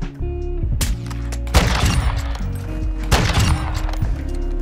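Repeated heavy gunshots from an anime-style sniper rifle in an online shooter game, three or four loud booming blasts with rumbling tails spaced about a second and a half apart over a steady low drone, no talking.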